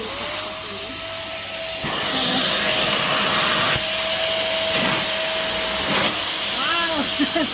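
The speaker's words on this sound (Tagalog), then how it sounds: "hand vacuum or 2-in-1 vacuum" A 2-in-1 stick vacuum cleaner runs steadily for the whole stretch with a high, constant motor whine and airy hiss as it picks up fallen hair, while a person talks briefly over it.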